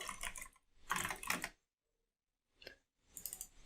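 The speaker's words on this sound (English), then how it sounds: "here let me type step 2" Computer keyboard typing in two quick bursts of clicks, a pause, then a single short tap and a final burst, close and fairly quiet with no voice.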